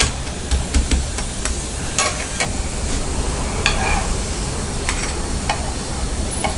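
Palm jaggery sweet rotti sizzling steadily on a hot pan as it is pressed down at the edges, with scattered scraping and tapping taps from a spatula over the continuous loud frying hiss.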